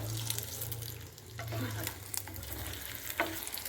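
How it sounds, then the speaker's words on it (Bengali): Kebabs coated in cornflour and egg frying in oil, a continuous bubbling sizzle with occasional stirring scrapes over a low steady hum. "এইভাবে এক এক করে ভেজে ভেজে তুলে নেবো আমি"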